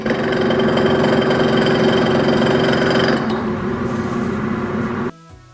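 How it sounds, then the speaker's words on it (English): A restored WW2-era drill press runs while its chrome lid rubs against the body. It makes a loud, harsh motor whine with a grinding rattle that shifts character partway through, then cuts off abruptly near the end. "when I put the chrome lid thingy, it rubs the body and it just sounds really bad"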